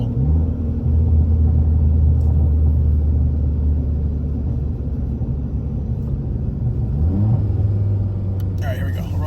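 VW Tiguan fitted with a DQ250 DSG gearbox accelerating from a roll in second gear, a deep droning engine rumble from inside the car that rises in pitch late on, with no one speaking.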